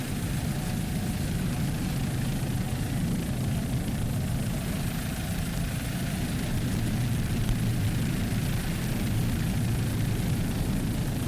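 Super Cat Light outboard racing boats run side by side off Mallory Square during a world championship race. Their engines make a steady, broad, roaring drone from some distance, with no clear rise or fall.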